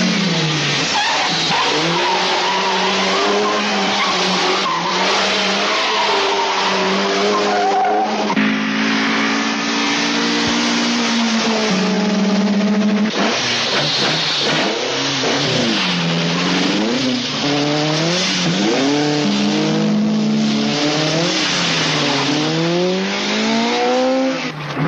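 A car in a 1973 French action thriller skids hard through a turn, its tires squealing in long, wavering, rising and falling shrieks over a revving engine for about 25 seconds, loud and close, with no talk.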